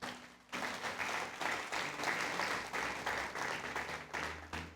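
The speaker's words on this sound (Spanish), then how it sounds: "Dale fuerte el aplauso al Señor." Church congregation clapping together in a sustained, even round of applause, a dense steady patter that lasts several seconds at moderate distance.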